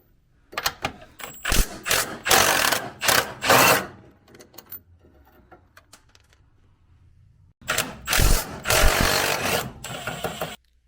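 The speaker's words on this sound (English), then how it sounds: "I can take off the 2 bolts from the motor mounts" A ratchet on motor mount bolts during removal of a Subaru STI EJ207 engine, with bursts of rapid clicking in several runs, a quiet pause, then another long clicking burst, up close with no talk.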